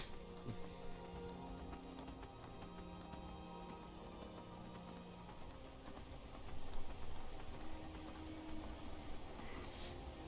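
A horse's hooves clip-clop at an even pace in the video game Skyrim, heard under game music with held tones, and the steps swell a little louder toward the end.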